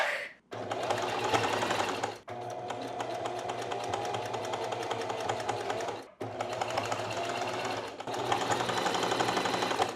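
A sewing machine runs a straight stitch of about 2.5 length, humming loudly and close in long continuous bursts with brief pauses between runs, no voices present.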